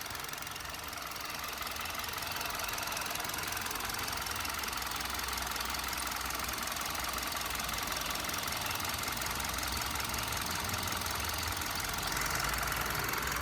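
A used Hyundai i20 Asta Optional petrol engine with about 29,000 km idles steadily and close for over ten seconds, an even, unbroken running drone with a faint rhythmic clatter.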